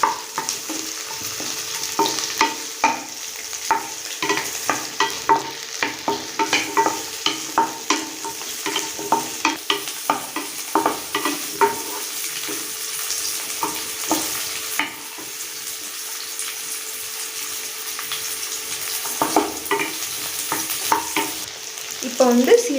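Ginger, garlic and green chilli fry in a pan and are stirred with quick, repeated spoon scrapes over a light sizzle that carries on for a while. The stirring then slows and the pan quietens near the end.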